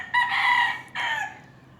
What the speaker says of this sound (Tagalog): May ngayon na yung mga manok.